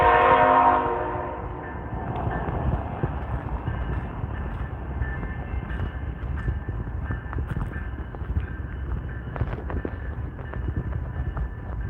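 The Canada Holiday Train passes through Didsbury, Alberta, opening with a brief, loud blast of its horn, then settling into a steady rumble and clatter of rail cars that continues throughout.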